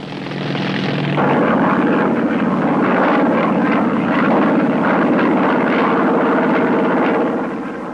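Propeller-driven military strike aircraft loaded with ordnance on a 1960s mission over Laos, a loud steady engine drone that swells and holds close for several seconds, no voices.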